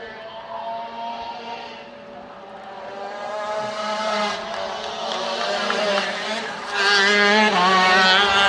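Several 80cc shifter karts race past at a national event, their high-pitched two-stroke engines whining and climbing in pitch as they accelerate, loud and close and growing louder toward the end.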